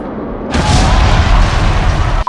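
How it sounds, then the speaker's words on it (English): A boomy explosion sound effect added during editing of a vlog bursts in loudly after a brief lead-in, holding a deep rumbling roar for nearly two seconds before cutting off. "I'm also going to add in explosion sound effect to make the scene look more action-packed"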